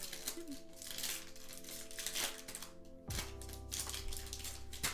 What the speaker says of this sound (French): Emma, elle joue sa vie pour ouvrir un booster.